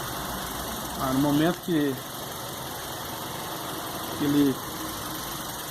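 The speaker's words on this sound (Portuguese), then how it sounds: "Não sei se vocês conseguem perceber pela câmera aí, ó, o motor falhando. Tá dando umas falhadas." A VW Gol G6 engine idles with a misfire, giving a steady mid-range running hum throughout while someone talks over it in a few short bursts.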